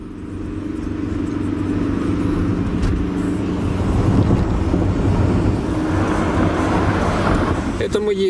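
A car drives along Vorontsovka street in Dnipropetrovsk on a winter holiday, with a steady loud engine and road rumble, wind buffeting the microphone throughout and a brief clatter near the end.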